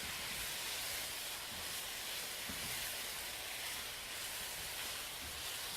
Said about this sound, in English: So now I'm going to come in with the garlic.